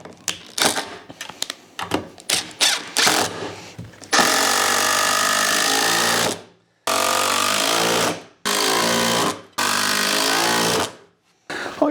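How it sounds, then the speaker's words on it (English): A power driver sinks a screw into a wooden planter box frame: a few short trigger bursts and clicks, then long, loud whirring runs broken by brief pauses, close up and without speech. "And drive this screw home now."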